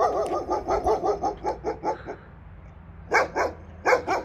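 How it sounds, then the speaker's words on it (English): A guard dog at a house in Jeju, Korea, barks in a quick run of about a dozen rhythmic woofs that fades, then two or three louder barks after a pause, close and clear with no talking. "And they also had a guard dog."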